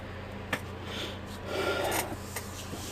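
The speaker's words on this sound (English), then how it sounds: "I always recommend to also put it around your mouth and nose area, so just rub it on your face." Hands rub hand sanitizer over the face around the mouth and nose, giving a soft, close rasping friction that swells and fades in uneven strokes, with a few light taps and no talking.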